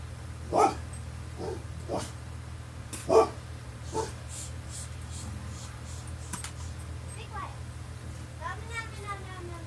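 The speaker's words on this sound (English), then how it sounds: "What is he barking about?" A dog barks a few sharp times, spaced apart, with whimpering yips in between and faint voices in the background.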